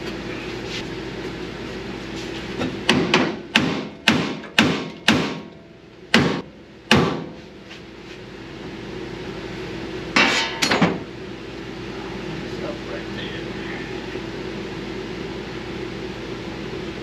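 Several loud metallic hammer strikes on a Model A firewall floor pan in a quick irregular series, then a pause and a final pair of blows, over a steady low hum.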